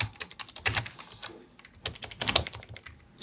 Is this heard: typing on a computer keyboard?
yes